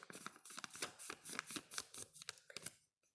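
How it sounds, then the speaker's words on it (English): A sheet of paper folded in half and then in half again, giving crisp crinkling rustles and sharp creases in quick, irregular bursts, close and fairly quiet before falling silent at the end. "I want you to fold it in half, hamburger style, and then fold it in half"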